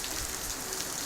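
Heavy rain falls in Lahore as a dense, even hiss of drops hitting surfaces, steady and moderately loud throughout with no voices.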